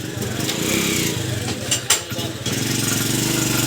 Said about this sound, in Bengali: এখন দেখেন মেশিন স্টার্ট হচ্ছে